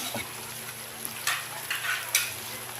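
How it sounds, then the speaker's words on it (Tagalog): Chicken frying in a pan at a home birthday meal, a steady broadband sizzle with a few louder crackling bursts and faint low background noise. "Prito kong manok."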